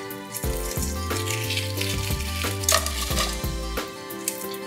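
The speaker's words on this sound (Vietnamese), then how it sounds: "vừa luộc trứng vừa chiên gà." Kitchen cooking with eggs boiling and chicken frying, heard as running water, clinking pots and dishes and a frying sizzle, busy and close throughout with no voices.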